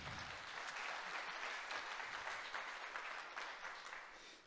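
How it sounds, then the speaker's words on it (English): Faint audience applause at a sponsors' talk session, a dense patter of clapping that tapers off at the end. "this round of applause actually also goes to you"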